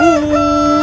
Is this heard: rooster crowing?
yes